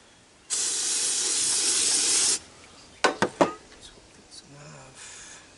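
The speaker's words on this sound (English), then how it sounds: "Let's give it a little hoot of starting fluid." Starting fluid sprays into an ATV engine in one steady hissing burst of about two seconds, followed by a few short sharp pops and faint rustling.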